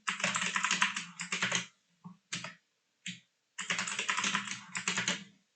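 Computer keys clatter in quick bursts while a root password is typed, with two longer runs of rapid tapping separated by a few isolated key presses and short pauses, close and clear.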